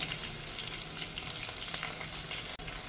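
Small onions and curry leaves frying in hot oil for a fish curry, a steady close crackling sizzle with a few louder spits, no voices.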